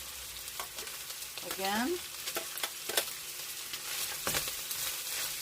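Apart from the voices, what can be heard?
garlic frying in a pan for squash and pork stir fry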